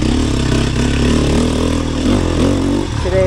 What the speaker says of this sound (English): Hard enduro ride on the two-stroke.